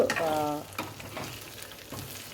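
Sesame seeds frying in hot oil for a tempering, with a steady sizzle and crackle that fades to a quieter simmer after a brief stirred burst.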